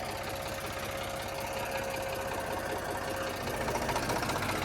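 A tractor engine runs steadily at close range, a continuous chugging drone with a faint knocking rhythm that swells slightly louder toward the end, with no voices over it.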